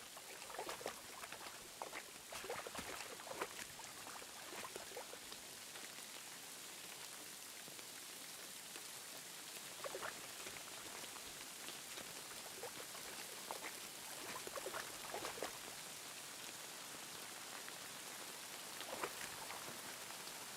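Steady ambient rainfall in the medieval role-playing game Kingdom Come Deliverance 2, a dense, even hiss of drops on surfaces with scattered louder patters, continuous and fairly quiet throughout, with no talking.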